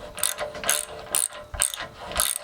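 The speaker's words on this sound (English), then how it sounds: "putting these 4 bolts through this side and putting a nut on the opposite side" A ratchet wrench clicks in five quick, evenly spaced bursts while nuts and bolts are tightened on a Jeep JK bumper, close and fairly quiet with no talking.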